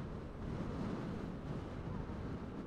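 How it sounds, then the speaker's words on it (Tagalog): Strong wind on a foggy mountain road roars continuously, a thick low buffeting rush against the microphone that stays loud and even throughout with no talking. "Lakas ng hangin"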